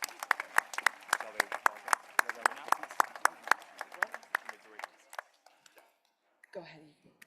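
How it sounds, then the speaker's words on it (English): A high school graduation crowd gives a round of applause for the student speakers, crisp clapping that thins out after about five seconds, followed by a brief murmur of voices. "join me in a huge round of applause for all of our student speakers today"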